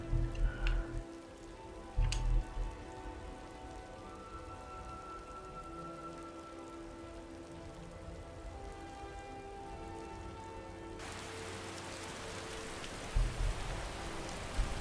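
Steady rainfall in the video game Skyrim, a continuous soft hiss of drops on surfaces that carries evenly throughout, with a few brief low thumps near the start and end and a sudden brighter, noisier shift late on.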